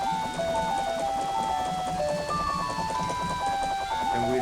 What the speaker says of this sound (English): Now it's all rainy and depressing.